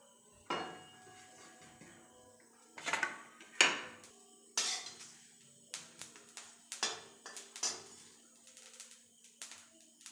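Coriander, cumin and cardamom go into a cooking pan amid scattered metallic clinks and taps of a utensil against cookware, close and irregular, with quiet gaps between.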